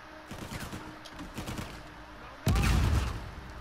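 Gunfire in the video game Uncharted 4: a rattling stretch of distant shots and battle noise, then a sudden loud, heavy burst of close fire.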